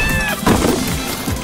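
A cartoon cat gives a few loud, close meows with a drawn-out, whiny tone, standing clear with almost no talk around them.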